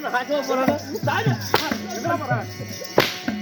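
Sharp whip cracks ring out from a Tamil devotional stage drama, two or three loud snaps cutting through a backdrop of sung and spoken dialogue with harmonium-like tones.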